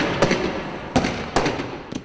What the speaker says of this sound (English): The barrage of tear gas, rubber bullets, and birdshot fired by security forces is relentless.